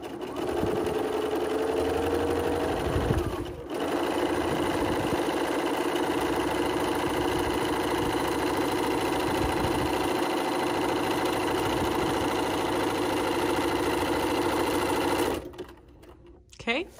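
Sewing machine stitching fabric for a storage box, a steady close mechanical whir running nearly continuously, with a short break before four seconds and stopping near the end.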